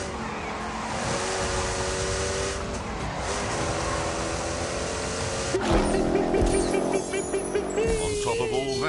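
A car accelerating hard with the throttle held wide open, its engine note climbing in steady harmonic sweeps and then jumping higher near the end, loud and continuous under a voice talking over it.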